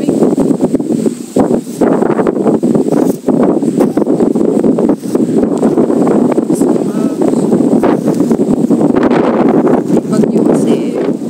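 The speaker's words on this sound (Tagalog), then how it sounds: "ang lakas na ng hangin dito" Strong typhoon wind roars steadily and loudly, buffeting the microphone throughout with constant rushing noise.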